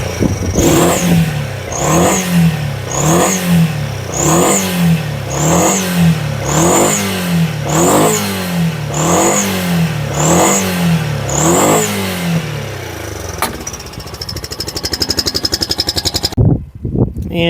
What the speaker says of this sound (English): I'm going to rev it a bunch of times and hopefully we'll blow some carbon out of here